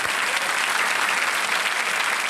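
Loud, steady applause from a TV quiz show studio audience, clapping continuously throughout without a break.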